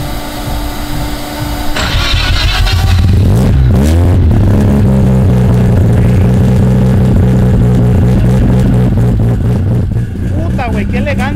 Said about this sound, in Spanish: Qué elegancia de mofle, de sonido.